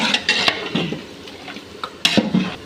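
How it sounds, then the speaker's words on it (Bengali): Beef for tehari being stirred and mixed in a pot, with scraping and clinking of a utensil against metal in irregular bursts and a soft wet churn between strokes, close by. "ভালো করে মিশিয়ে"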